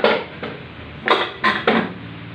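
A metal kawali (frying pan) clatters and knocks while being handled in a home kitchen during paksiw cooking, with one sharp opening clank followed by three bright clattering bursts in quick succession, close and fairly loud.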